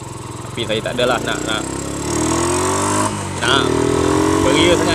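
A Yamaha LC135 motorcycle fitted with an NSR carburetor revs nearby in short blips, then pulls into longer rising acceleration runs, with someone speaking over the engine.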